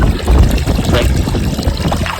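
Dam water gushes and splashes steadily from a pipe into a farm field nearby, a loud continuous rushing flow.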